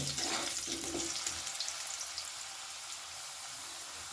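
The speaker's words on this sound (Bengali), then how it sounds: "লাল করে ভেজে নেব" Steady sizzling of potatoes frying in hot oil, a continuous crackling hiss close up with no talking.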